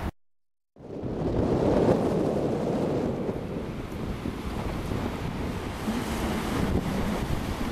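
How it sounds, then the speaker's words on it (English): Surf rolling onto a South Coast beach on Kangaroo Island: after a moment of silence, a broad, continuous roar of waves sets in and holds steady, with wind buffeting the microphone. "Next stop, a South Coast beach."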